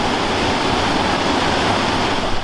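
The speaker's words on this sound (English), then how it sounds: "the little adit of water that was coming out of the workings of Norchard Colliery" Water flowing out of a small adit from the old Norchard Colliery workings beside the Dean Forest Railway: a continuous, even rushing wash, close and fairly loud, with no voices.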